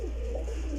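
A pet pigeon from a home loft of paired birds gives a short, close, soft coo that lasts under a second.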